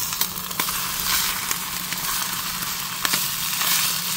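Breakfast frying in a frying pan on a small stovetop, a steady close sizzle with scattered crackles and pops running through the whole stretch.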